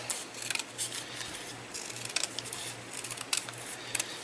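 Scissors trim a strip of 1/4 inch score tape at close range in a quiet craft setting, giving a few crisp snips and faint mechanical clicks against a low background hum.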